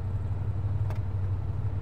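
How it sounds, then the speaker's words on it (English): A vehicle engine runs steadily in Arma 3, a low continuous idling hum heard alone and at close range with no talk over it. "Keep the engine running."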